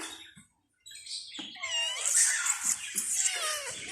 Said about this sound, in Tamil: அது பக்கத்தில் இருந்தே வந்து சின்ன சின்ன பூனை இருக்குது பாருங்கள்